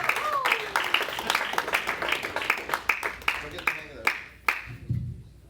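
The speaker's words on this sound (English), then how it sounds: "Keep the applause going for Andy Hamilton" Applause from an open-mic comedy crowd at the Funny Bone, with dense clapping swelling and thinning into scattered claps as it fades, while a host talks over it.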